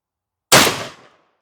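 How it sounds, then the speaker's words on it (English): A Tamer .410 shotgun fires a single loud, close blast that cuts in sharply and then fades over about half a second, with silence before it. "A little 410 action now with this Tamer shotgun."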